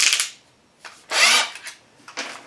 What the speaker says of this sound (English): I'm going to drill a hole in